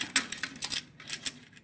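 Lotus seeds drop into a small Kubera kuncham vessel, giving several light, hard clicks and ticks in an uneven patter, close and fairly quiet.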